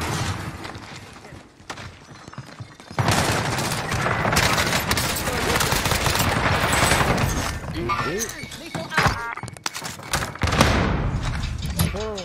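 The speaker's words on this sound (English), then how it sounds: "Taking fire here" Heavy video game firefight with rapid machine-gun bursts and scattered booms, loud and sustained after a quieter start, while voices talk over the shooting.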